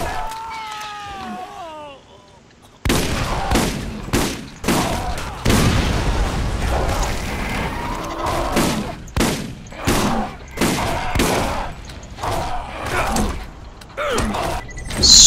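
Gunfire from shooting enemies in the video game Borderlands, repeated loud bursts and single shots over mechanical creaks and game effects, with a creature-like whine before the shooting begins and a voice talking at times.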